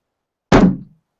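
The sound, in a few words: drum being banged to open a show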